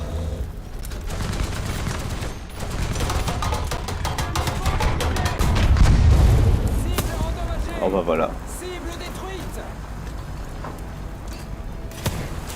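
Dense, rapid booms and cracks of heavy artillery and tank fire in the game War Thunder roll on with a deep blast near the middle, while voices talk over the barrage.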